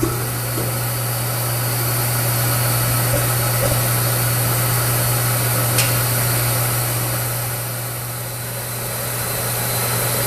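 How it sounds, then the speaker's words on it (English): A waste oil furnace burner roars steadily with a low, constant hum, a continuous mechanical drone throughout with no voices. "You can see the furnace is now operating, and it's producing some pretty good heat."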